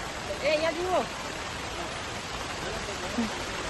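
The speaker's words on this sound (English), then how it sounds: "We could make it luckily, but it's heavy rain." Rushing water hisses in a dense, steady wash like heavy rain and a nearby waterfall in Kerala, with a few brief voices rising over it.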